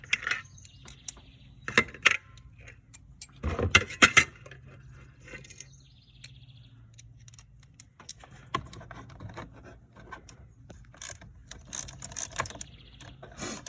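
A ratchet wrench with a 10 millimeter socket works on the battery bolts of a second-generation Ford Fusion, giving quiet, scattered clicking bursts with pauses between them.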